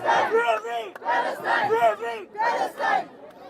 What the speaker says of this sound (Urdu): فری پاکستان کے نعرے لگائیں نا